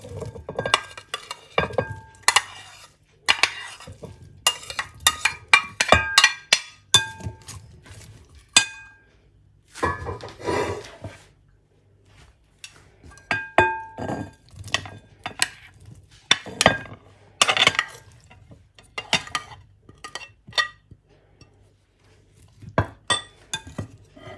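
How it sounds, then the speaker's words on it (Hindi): Cut fruit pieces for a fruit chaat drop into a large bowl with irregular clinks and clatters of utensils and dishware, spread across quiet gaps and with no talk. "अब एक बड़ा बॉल लेकर इसमें सारे फ्रूट्स जो हमने काटे वो डाल लेंगे"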